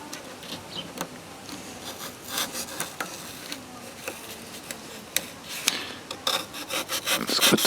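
Rough rasping and grinding scrapes from cutting rusted sheet metal off the back left corner of a beat-up van, irregular bursts close by that grow louder and denser toward the end, with no talking.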